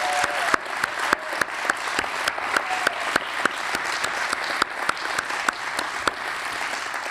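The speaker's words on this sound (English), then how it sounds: "how about another big round of applause for all of our honorees tonight" A crowd at a community awards evening held in a church venue claps for the honorees, a loud sustained round of applause with several sharp, distinct claps standing out near the front and no voices over it.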